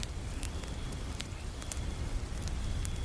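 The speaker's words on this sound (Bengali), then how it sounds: "বাইরে তখনও টিনের চালের ওপর বৃষ্টির শব্দ আর দূরের মেঘের গর্জন ছাড়া কিছুই শোনা যাচ্ছিল না।" Steady rain drumming on a tin roof on a stormy night, a dense even patter with scattered sharper drops, moderately loud and continuous throughout with no voices.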